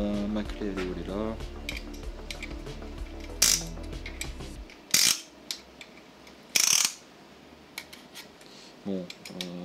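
Ratchet wrench clicks in short rapid runs while working on a Nissan 350Z engine during crankshaft and piston reassembly, close and crisp, broken by metallic clanks and bumps, with someone talking at first.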